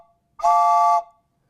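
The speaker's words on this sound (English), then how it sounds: "a boat whistle" One loud, steady whistle blast lasting about half a second, rich in harmonics, sounding by itself against silence.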